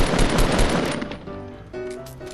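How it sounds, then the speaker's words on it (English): Rapid gunfire from a multiplayer shooter video game, dense bursts crackling loudly through the first second or so, then thinning to scattered shots under tonal game sounds and music. "I hear lots of bullets"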